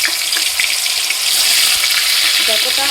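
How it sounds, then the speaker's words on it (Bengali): Cubes of soya paneer hiss and crackle as they fry in hot oil, a loud, continuous sizzle with small pops and faint clinks near the end. "এরকমভাবে পনিরগুলোকে সুন্দর করে ভেজে নিতে হবে লাল লাল করে।"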